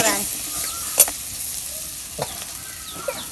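Chickpeas fry in hot oil with a continuous bright sizzle, broken by a few sharp clinks and scrapes of stirring. It sounds close, with no talk.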